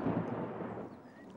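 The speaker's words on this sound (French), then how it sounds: "C'était le tonnerre, Peppa." A low, distant rumble of thunder in a cartoon scene rolls softly for over a second and ends with a brief sharp crackle.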